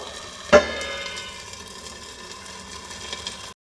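Mangalore-style fish tawa fry, five fish together on a flat pan, giving a steady, soft sizzle with one sharp knock early on. The sound then cuts to silence near the end.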